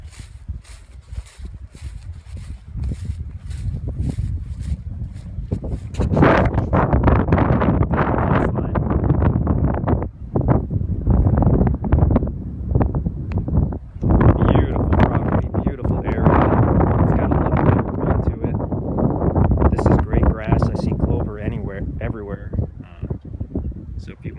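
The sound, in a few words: wind blowing outdoors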